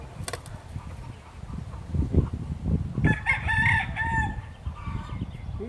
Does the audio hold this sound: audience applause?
no